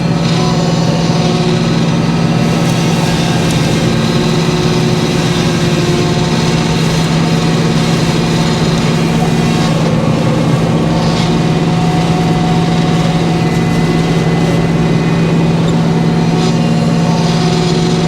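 A portable sawmill trims the tail off a 16-foot white pine log, its engine holding a loud, steady, close drone for the whole stretch with no voices.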